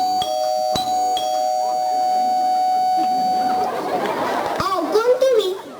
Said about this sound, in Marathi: थांब मी बेल वाजवतो.